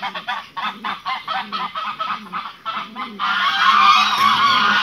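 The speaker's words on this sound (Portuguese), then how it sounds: "Os animais tudo aqui. As angolas. Tudo esperando a hora do milho." Geese and guinea fowl calling together at dawn on a farm while waiting for corn: a run of repeated honking calls, then a loud, dense chorus of overlapping cries close by.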